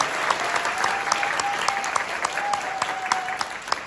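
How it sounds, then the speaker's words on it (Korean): Lecture audience at a COEX economic-outlook conference claps together on request, a dense, loud burst of applause sustained evenly with individual sharp claps standing out. "기대되시는 분만 박수 한번."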